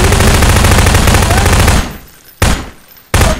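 Loud rapid gunfire in a video game rattles in a dense continuous burst, stops abruptly, then two short sharp bursts follow.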